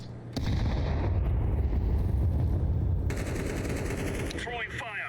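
Counter-Strike 2 gameplay with a loud sustained barrage of gunfire and blasts, including a grenade explosion, continuous and near through the whole stretch, with a voice talking over it briefly.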